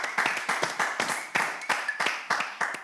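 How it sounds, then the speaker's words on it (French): A small group clapping in a quick, slightly uneven rhythm, close by, with no voices. "je vais vous demander d'applaudir pour ces merveilles-là"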